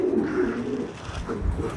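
A pouter pigeon in a cage gives low, throaty, rolling coos, close and fairly loud, with soft cage shuffling underneath.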